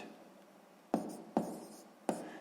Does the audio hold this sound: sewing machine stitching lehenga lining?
no